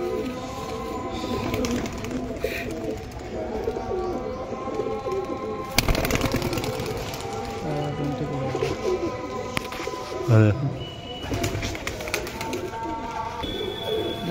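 Pakistani pigeons coo in a Bardhaman loft, soft repeated calls amid bird chatter, with occasional sharp clatter and people talking in the background.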